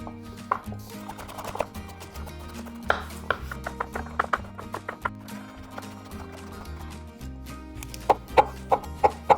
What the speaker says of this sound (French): On va tout simplement retirer la peau de tous les éléments et tout couper en tout petits morceaux